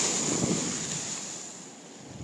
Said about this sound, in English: Big wave's gonna crash right now.